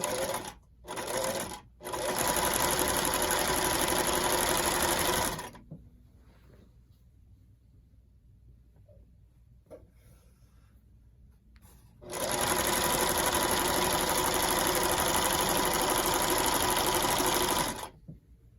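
A worn home sewing machine rolls a quick hem in fabric: loud whirring, rattling stitching runs in short bursts with brief stops, then a quiet pause before a second long continuous run.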